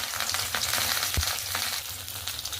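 Coriander-leaf pakoda dipped in batter and deep-frying in oil in a kadai, a loud, dense, continuous sizzle with crackling bursts close by and no talk.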